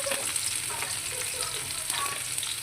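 Onion added to garlic already frying in vegetable oil, giving a dense, even sizzle that holds steady throughout at moderate volume.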